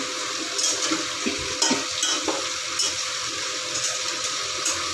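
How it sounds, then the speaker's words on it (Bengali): Potatoes fry in oil in a pan with a loud, dense, continuous sizzle and a few soft clinks of a utensil, with no voices. "দেখো বন্ধুরা আলুগুলি ভাজা হয়ে গেছে"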